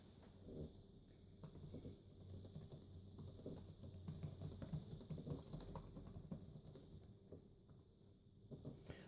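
Typing on the keyboard of a Toshiba Portégé M400 laptop in Microsoft Word 2013, a quiet continuous patter of light key clicks in irregular bursts over a faint background hum, no one speaking.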